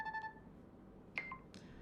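Nothing Phone 2a ringtone "Wings" plays as a short run of clean electronic tones: two held notes, then a couple of quick higher chirps, all faint with no talking.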